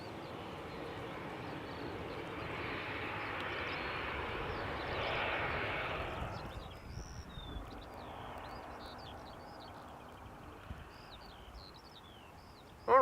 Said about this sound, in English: this Embraer 175 arriving from Bremen